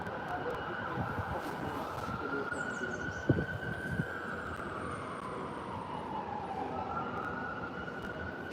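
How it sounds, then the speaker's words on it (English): An emergency vehicle siren wails in the distance, its steady rising and falling tone carrying on for several seconds over low traffic rumble, with a couple of brief knocks nearby. "I can hear sirens."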